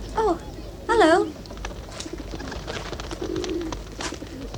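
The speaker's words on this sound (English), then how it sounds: "Pigeons." Pigeons cooing nearby, two clear rolling coos in the first second, then quieter murmuring coos and soft rustling over a faint background.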